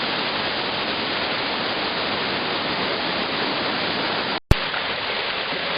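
The Zhenetskyi waterfall rushes with a constant, loud, even roar of falling water, broken only by a brief dropout just before the end.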